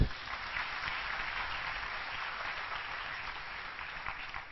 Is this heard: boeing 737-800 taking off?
no